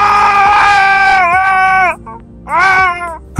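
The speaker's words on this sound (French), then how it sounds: "Un cri, un hurlement," A loud, shrill scream rises and wavers for nearly two seconds, then a second anguished howl follows after a short gap, close and piercing with no talk.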